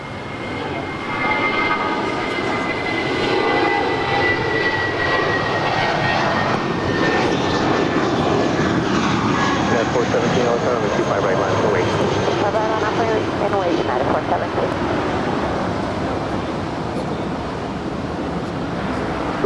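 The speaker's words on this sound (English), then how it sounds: "Next departure is Spirit Airlines Flight 508 heading to Louisville, Kentucky. It's an A320." A Spirit Airlines Airbus A320 departing LAX for Louisville roars with a loud, sustained jet engine rumble and a faint whining tone that swells after the first second and holds throughout, with voices audible beneath it.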